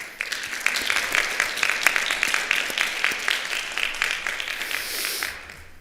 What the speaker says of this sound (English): I'd like to give them a little round of applause.